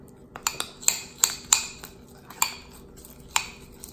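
A spoon clinks and scrapes against a bowl while vegan cream cheese and turmeric are stirred together, about ten quick irregular metallic taps, close and clear with no talking.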